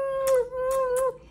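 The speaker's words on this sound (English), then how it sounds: "If you hear a meow, it's my cat meowing" A single drawn-out meow, close and clear, wavering slightly before trailing off.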